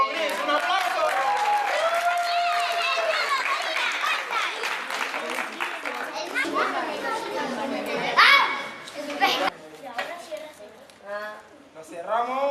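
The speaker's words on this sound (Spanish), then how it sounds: "Mago Gris, un aplauso" Applause at a summer school end-of-year party for the magician Mago Gris, with children shouting and chattering loudly over the clapping.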